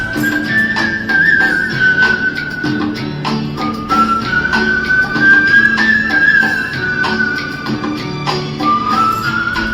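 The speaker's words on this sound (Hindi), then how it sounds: "लोग उनसे एक सीटी गीत की फरमाइश कर देते हैं" A woman whistles a song, a clear melodic line of sustained notes and gliding phrases over a steady accompaniment, loud and close throughout with no talking.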